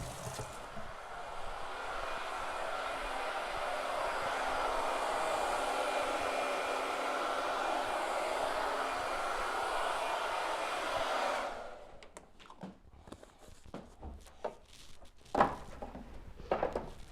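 A hair dryer blows steadily at close range for about eleven seconds while drying craft pieces for a holiday window display, then switches off, leaving scattered light clatter and handling noises.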